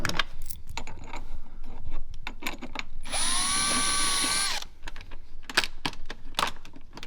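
A power tool backs out dash panel bolts on a motorcycle: one whirring burst of about a second and a half, close and fairly loud, between scattered clicks and handling clatter.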